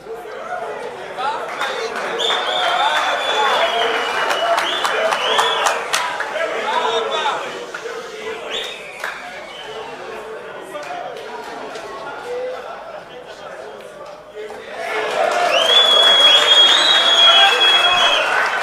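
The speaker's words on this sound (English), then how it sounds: "crowd is clapping and cheering." A crowd at a pool match claps and cheers, a sustained roar of applause and chatter that dips midway and then swells again near the end, with voices mixed throughout.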